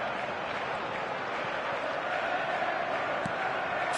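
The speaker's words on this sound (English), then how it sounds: "Crowd appreciates good football all round there." Steady crowd applause and cheering fill a stadium in a PES football video game, a dense, continuous roar with no pauses.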